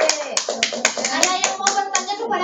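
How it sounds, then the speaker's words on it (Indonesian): Classroom applause for a student group after its presentation: scattered, uneven hand clapping from many children, with children's voices chattering throughout. "tepuk tangan buat kelompok 2"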